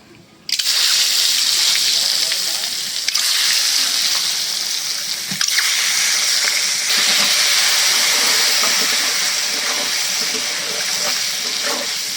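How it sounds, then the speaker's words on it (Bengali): Loud, steady hiss and crackle of eggs frying in a very hot wok with chili powder, continuous throughout with a brief clatter partway. "এখন দিয়ে দিব ডিমগুলি।"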